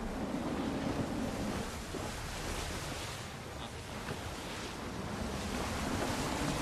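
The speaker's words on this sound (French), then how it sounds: "Le vent est en train de tourner." Wind and rolling ocean waves while a sailing ship is under way in Assassin's Creed III: a constant, loud wash of surf and gusting air, with no voices.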